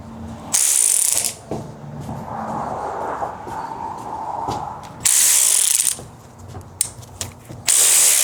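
Ratchet clicking in bursts while tightening an alternator bolt on a 2009–2013 Toyota Corolla 1.8L, loud and close, with three sharp rapid-click runs separated by quieter handling noise.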